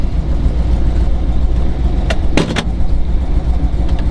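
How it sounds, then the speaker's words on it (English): A 1969 Dodge Charger 500 with a HEMI V8 and four-speed idles after a cold start, a loud, steady low rumble with a few sharp clicks partway through. "We'll have a cold start here for you."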